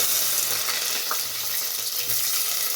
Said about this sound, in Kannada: ಈಗ ಸಾಸಿವೆ ಹಾಕ್ತಾಯಿದ್ದೀನಿ ನಾನು